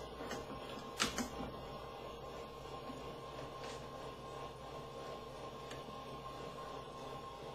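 Edison Triumph Model A phonograph shaving a fine cut off a wax blank, a steady low mechanical hum and whir with a brief click near the start, continuous and moderately close.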